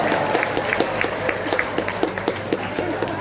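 Audience clapping at a government religious ministry coordination meeting, a brisk and steady rhythm of many hands sustained throughout with faint voices underneath.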